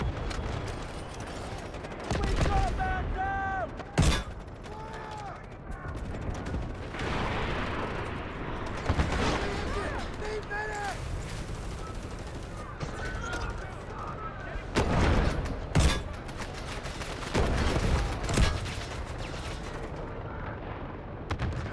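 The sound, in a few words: 7.62 machine gun fire in video game Delta Force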